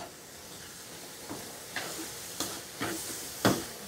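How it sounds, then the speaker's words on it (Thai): Sugar being stirred and cooked down in a pan until it caramelizes for Thai braised pork leg, a soft steady sizzle with five or six brief scraping strokes of the utensil, close and fairly quiet, no voices. "คนคลุกเคล้าให้เข้ากัน แล้วก็เคี่ยวไปจนน้ำตาลไหม้อะค่ะ"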